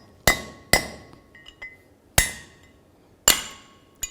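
A hammer taps out the front wheel bearing race on a 1999-2004 Nissan Pathfinder, giving four sharp, ringing metallic strikes at uneven intervals, each ringing briefly, with a lighter tap at the end.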